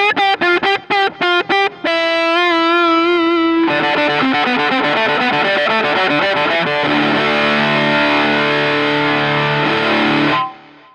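An electric guitar played through a Dark Knight distortion pedal picks a few quick notes, then rings out a thick, saturated chord that sustains loudly before cutting off.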